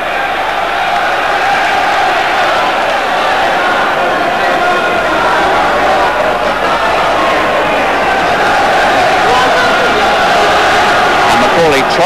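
Arena crowd in Belfast at a world flyweight boxing bout roars and cheers continuously, a thick sustained wall of voices holding steady throughout.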